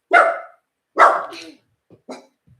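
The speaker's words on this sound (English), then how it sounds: "Jace, stop trying to make her bark" A single dog barks indoors, two sharp close barks followed by a few softer, shorter yips trailing off.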